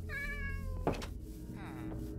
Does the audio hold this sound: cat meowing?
yes